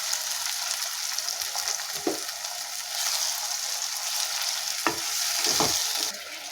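Marinated chicken frying and being stirred in a pan for a red chicken curry, a steady broadband sizzle throughout with a few scraping stirs, close and fairly loud, no talking.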